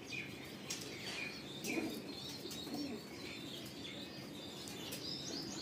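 A pigeon, handled at a pigeon sale in Latur, flaps its wings in several short, close bursts over steady background chirping of other birds and low cooing, with no talk.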